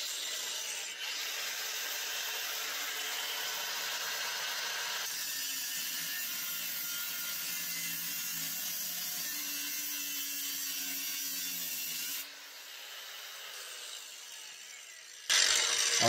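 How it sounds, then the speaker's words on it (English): A battery Sawzall reciprocating saw cuts through a welded muffler tailpipe in a home garage, a steady close buzzing drone for about twelve seconds before the pitch drops briefly and then picks back up. "we're going to go ahead and go back to the Sawzall here"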